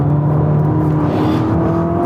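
A Ferrari SF90 with its turbocharged V8 hybrid powertrain accelerates, a dense, steady engine drone with a rising harmonic pitch, loud and close, heard alone without talk.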